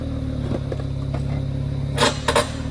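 A large Jeep without skid plates or lockers grinds along an off-road trail, with a steady low engine rumble close by and a couple of brief clunks and rattles near the end; no talking.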